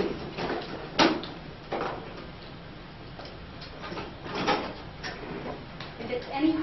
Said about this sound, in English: Again, we just want to lift the door and hear it click.